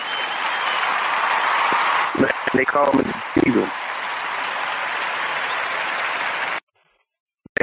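A round of applause from a studio audience greets a guest nicknamed the Diesel at an interview, steady clapping filling most of the clip before cutting off abruptly, with someone speaking briefly over it.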